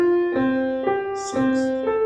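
Melodic intervals of a third and a fourth played as pairs of sustained tones, four clear notes in a row stepping up and down, each ringing for about half a second, with no voices.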